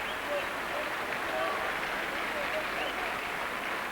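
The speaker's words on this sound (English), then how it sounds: "Applause for Alima," Steady broadband applause from a stadium crowd at a 2002 Salford v Castleford rugby league match, greeting a try scorer, sustained and even for the full stretch, with a faint voice over it.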